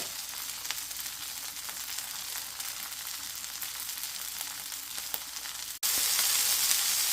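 A mutton burger cutlet browns in a pan, its oil hissing in a steady, close sizzle that briefly drops out and returns slightly louder, with no talking over it.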